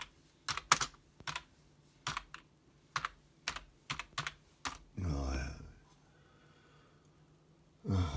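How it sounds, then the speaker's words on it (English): Bursts of fast clicking keystrokes on a computer keyboard, close and quiet. A long sigh breaks in partway through, and another breath comes at the end. "So let's type it in"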